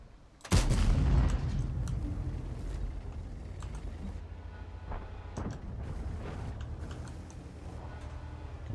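A tank cannon in the game World of Tanks fires once with a sudden loud boom, followed by a rumbling engine and battle ambience with scattered faint distant shots.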